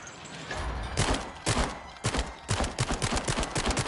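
Rapid bursts of gunfire as skulls are shot in the VR horror game The Dark Pictures: Switchback, loud and close with irregular volleys clustering into dense repeated shots toward the end, no talking.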